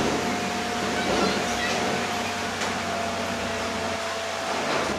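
A single electric fan running while its current draw is measured with a modified multimeter, giving a steady broadband whoosh with a faint constant hum underneath, continuous and even throughout.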